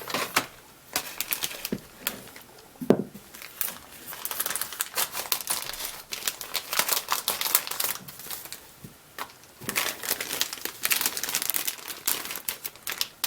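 A plastic package of chrome parts for a 1:25 scale 1970 Ford Galaxie model car kit is cut open, with close crinkling and crackling of plastic in busy, irregular bursts throughout.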